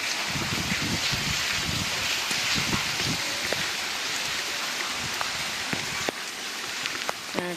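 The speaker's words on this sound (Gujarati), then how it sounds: "ચારે બાજુ અંધાધૂન વરસાદ છે" Heavy monsoon-season rain pours down all around, a dense, constant drumming on surfaces with scattered sharper drips, loud and unbroken.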